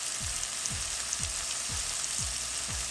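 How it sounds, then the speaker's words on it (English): Onions sweat in a hot pan with a steady, close sizzle, joined by a repeated low scraping of stirring about twice a second, as for Jamaican-style steamed fish and okra. "We're going to make these onions sweat a little bit."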